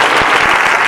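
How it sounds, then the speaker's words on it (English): An audience at a game and city event breaks into loud, dense applause, a continuous close roar of clapping hands filling the short moment. "And a round of applause for him."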